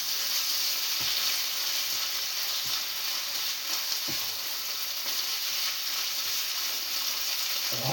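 Pasta bolognese ingredients fry in a pan with a steady, dense sizzle and hiss that runs throughout, a few soft stirring knocks underneath.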